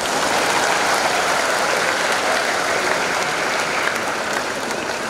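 Audience applause at a Catholic missio canonica graduation ceremony, dense sustained clapping from a large crowd at steady loudness throughout.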